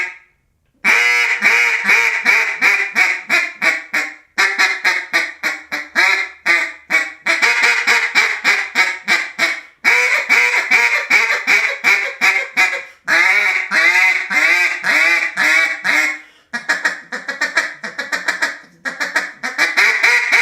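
Duck call blown with hot air for a deeper, lower-volume tone, sounding as a rapid, continuous string of loud, close quacks in rhythmic bursts with short pauses, alone with no talking.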